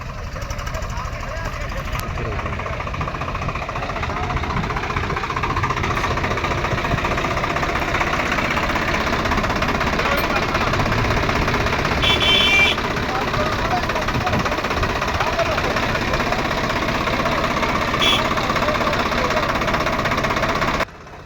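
A steady, loud tractor engine rumble runs throughout with a knocking, rattling vibration as it chugs along close by on a very rough road in a flood-hit village.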